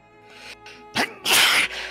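One loud, sharp sneeze up close, a quick intake of breath followed by an explosive burst.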